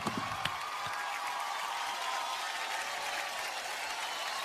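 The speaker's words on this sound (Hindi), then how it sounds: "इस टीम के लिए जोरदार तालियां होनी चाहिए।" An awards-show audience applauds a winning drama-series team, a dense, steady wash of clapping with a couple of sharper claps at the start, filling the room without any speech.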